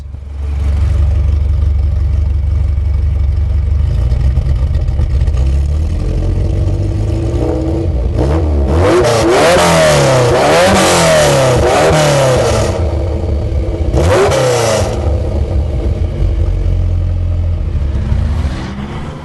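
A Ferrari 308 GT4 engine idles loudly up close, then is revved hard in a long surge followed by a shorter second blip.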